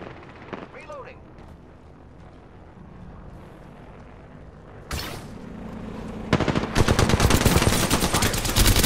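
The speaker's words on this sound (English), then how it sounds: "Opening fire on the enemy" Gunfire in the video game Apex Legends, rapid automatic bursts of shots that build from scattered cracks to a loud sustained volley near the end, with in-game voice chatter earlier.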